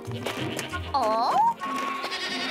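A nearby goat lets out a wavering bleat in the middle of a cartoon scene, with voices and light background noise around it.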